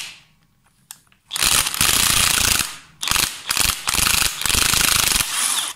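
A DeWalt impact wrench hammers at a tight primary nut on a Triumph Trident T150V, with loud close rattling bursts of about a second each and brief pauses between them.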